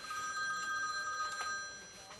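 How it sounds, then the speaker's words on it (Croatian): A telephone rings steadily and close by throughout, set in a New Year's TV comedy programme. Faint voices sit beneath the ringing. "Joj, telefon zvoni."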